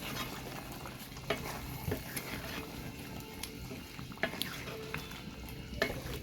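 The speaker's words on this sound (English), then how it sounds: "Give that a stir." Curry chicken being stirred and fried in a pot, seasoned with all-purpose and jerk seasoning, gives a steady close sizzle with scraping spoon strokes and a few clinks of utensil against the pot.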